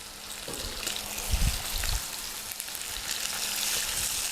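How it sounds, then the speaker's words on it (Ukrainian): Pork ribs sizzling and frying in hot oil in a pan, a steady loud crackle throughout with a few low thumps as pieces are laid in, no talking. "Кожний шматочок викладаємо, тільки обережно олія гаряча."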